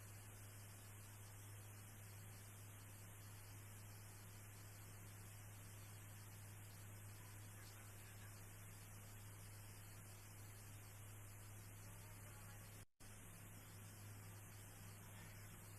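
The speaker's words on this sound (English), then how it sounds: "I don't know why this video had to include white noise." Steady broadband white noise with a low mains hum beneath it, faint and unbroken apart from a brief dropout near the end.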